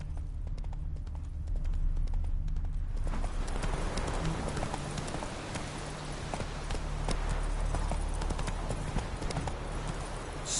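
Horse hooves clip-clopping in The Witcher: Wild Hunt video game, steady rhythmic hoof beats that pick up into a faster gait with a rushing outdoor wash behind them.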